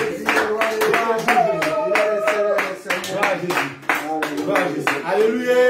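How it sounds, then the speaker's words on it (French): A church congregation claps loudly in quick rhythm together with shouts and sung voices, a dense, lively burst of praise that stays close and continuous. "Acclamez plus fort pour Jésus."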